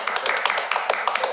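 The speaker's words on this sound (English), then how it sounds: "a huge round of applause" A small room of committee meeting attendees gives a brief round of applause, a dense patter of hand claps that lasts just over a second.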